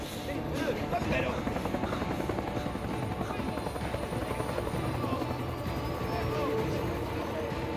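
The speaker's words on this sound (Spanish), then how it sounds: "¡Helicóptero!" Helicopter in the video game Days Gone, a steady loud rotor thrum and whine sustained throughout, with game voices speaking over it.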